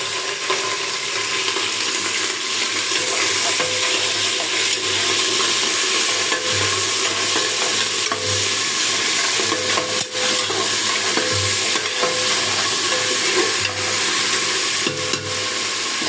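Ginger, cumin and garlic paste fries in hot oil for a chicken curry, a constant close sizzle with the soft scrape and thump of stirring repeating throughout, no talking.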